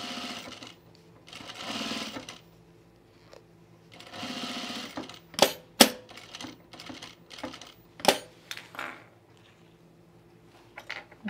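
Sewing machine stitching past a dart on chino pants: a few short, soft runs of stitching broken by sharp clicks and handling taps, close by, with quiet gaps between.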